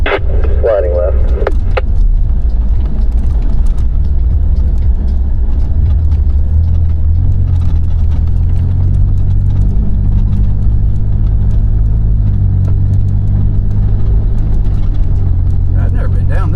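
A truck nicknamed the Frankenraptor runs off-road on rough trails, its engine a loud, steady low rumble with bumps and knocks from the rutted ground. Talk comes and goes over the noise.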